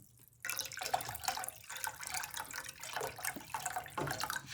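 Steady pouring of boiled water into a pot for dahl for several seconds, a continuous splashing rush heard close up.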